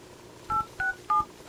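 Keypad tones from the phone dialer on a Huawei Ascend P6, four short evenly spaced DTMF beeps, clear and close with no talk.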